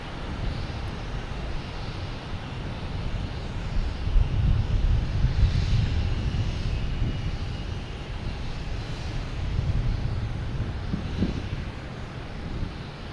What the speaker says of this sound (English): A319 taking off.